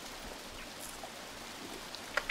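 Steady rain falls in the jungle survival game Green Hell, a soft continuous hiss with a few faint drips and ticks near the end, no voices.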